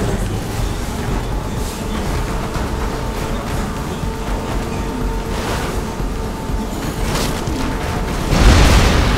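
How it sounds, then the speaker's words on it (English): Fireworks blasting in the zombie game Dead Rising 3, a dense, continuous rumble of overlapping explosions with a louder burst near the end, no talking. "Oh my gosh, so many explosions."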